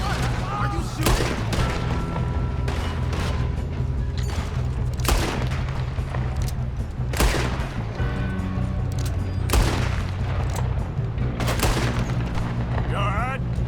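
Repeated gunfire in the Western video game Red Dead Redemption 2, loud sharp shots and bursts cracking at irregular intervals amid a heavy battle din, with voices talking over the shooting.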